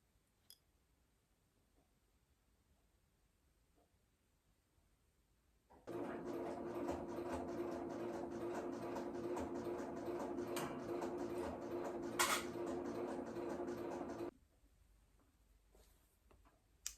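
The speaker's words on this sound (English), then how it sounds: "I'm going to just stitch along the edge" A sewing machine stitches along the edge of fabric in one continuous run of about eight seconds, a fast steady mechanical whirr with rapid needle clatter, close and loud against a quiet room before and after.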